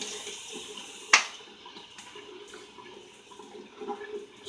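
A shaving brush is rinsed under a running tap, a soft steady trickle of water with a sharp splash or knock near the start, quiet and close with no talk.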